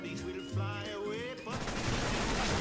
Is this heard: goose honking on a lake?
no